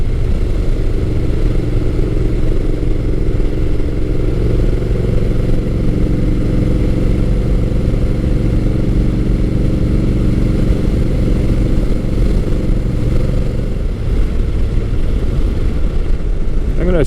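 A Honda Rebel 1100 T DCT cruiser motorcycle engine drones steadily and loudly throughout, a continuous low rumble with rushing wind as the bike rides along.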